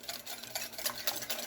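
Chocolate mousse mixture whisked by hand in a bowl, a quiet rapid rhythmic swishing and tapping of the whisk, steady and close, with no talk.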